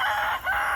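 Chickens in a backyard garden flock giving a steady run of clucking and crowing-like calls, fairly close and continuous with a brief dip in the middle, no talk over them.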